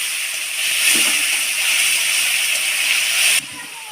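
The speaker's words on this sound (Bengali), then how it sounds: "এতে আছে টমেটো বাটা পেঁয়াজ বাটা করে কষিয়ে নেবো মশলাটা" Tomato and onion paste with spices frying in a pan, a steady loud sizzling hiss that carries on throughout with no talk over it.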